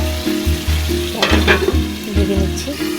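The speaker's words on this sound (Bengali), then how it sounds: "ম্যারিনেট করা মাংসটা দিয়ে দিচ্ছি" Marinated mutton frying in a pan gives a loud, steady sizzle with a low hum beneath and bursts of crackling and stirring clatter midway, close and with no voices.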